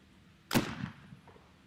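A single shotgun shot at a women's trap shooting final, one sharp loud blast with a short echoing tail, heard on its own outdoors.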